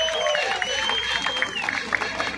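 Crowd at an outdoor political march in Praça da Sé claps along, scattered rhythmic clapping under a shouting voice and background music, fairly close and moderately loud.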